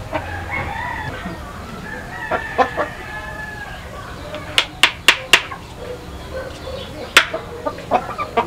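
Chickens and chicks in a coop call and cluck close by, with a rooster crowing and sharp repeated squawks and peeps mixed with faint background noise.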